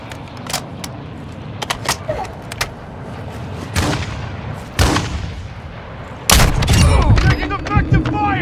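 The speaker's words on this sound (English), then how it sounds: "Taking effective fire!" Gunfire in a tactical multiplayer shooter match: scattered sharp single shots and a few heavier booming bursts, some distant and some close, with a loud crack near the end, while players talk over voice chat.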